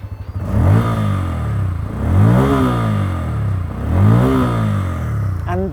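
A Bajaj Pulsar N160 160cc motorcycle engine is blipped up to around 5,000 RPM three times in a row, each rev rising and falling in pitch, loud and close, with a brief voice at the very end.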